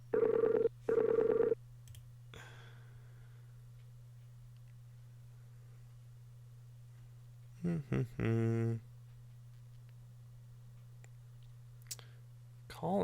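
Short bursts of telephone dialing tones, then a long quiet stretch over a steady electronic hum, and later another brief electronic tone burst with no answer.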